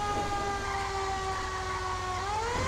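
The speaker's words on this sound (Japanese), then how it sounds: "あ、消防車もう到着してるね。" A fire engine siren in the video game GTA 5 wails steadily and loudly, its sustained rising and falling tone holding over a constant low engine rumble.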